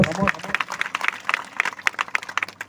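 Audience clapping in rapid, uneven bursts at a religious gathering, lively and fairly close, lasting only a couple of seconds.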